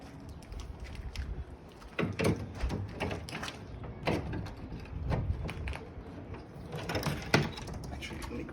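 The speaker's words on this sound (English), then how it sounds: "So I gotta loosen up this bolt" A wrench works a bolt loose on the bolted frame of a retractable deck on a tiny home on wheels, giving repeated ratcheting creaks and wooden knocks in bursts, fairly quiet and close.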